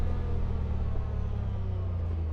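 A Honda Talon 1000R-4 side-by-side engine rumbles steady and close, a dense low drone holding fairly even for a couple of seconds.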